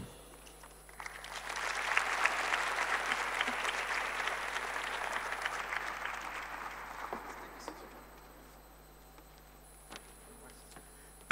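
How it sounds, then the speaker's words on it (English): A crowd applauds for several seconds, the clapping swelling quickly, holding steady, then fading out into a quiet room. "Another round of applause."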